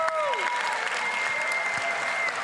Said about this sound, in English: Let's get a huge round of applause for Qualcomm, RTX.